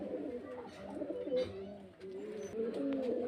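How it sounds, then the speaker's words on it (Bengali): Several high-line pigeons kept for sale coo nearby in deep, rolling, repeated calls that overlap continuously, fairly loud and close. "এগুলো বাইরেকার লাইনের পায়রা এগুলো হাইপ লাইন পায়রা"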